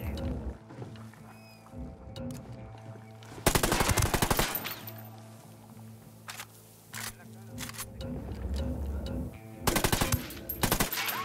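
Bursts of automatic gunfire in Ghost Recon Wildlands crackle loudly during a firefight, with two heavy volleys and scattered shots over low game ambience and mechanical hum.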